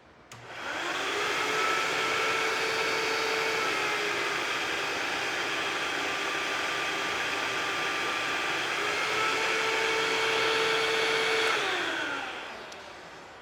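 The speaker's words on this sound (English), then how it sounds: "causing the vacuum cleaner to operate at a lower speed and the light to dim because it's running at lower voltage" A vacuum cleaner powered through Enphase solar microinverters drones steadily and close, its motor pitch sagging lower as the supply browns out under cloud cover, then climbing back to full speed before it winds down at the end.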